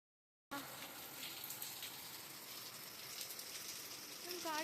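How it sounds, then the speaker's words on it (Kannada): Steady afternoon rain outdoors gives a soft, continuous hiss that stays even throughout and sounds faint and distant, with no distinct individual drops. "ಮಳೆ ಬರ್ತಾ ಇದೆ"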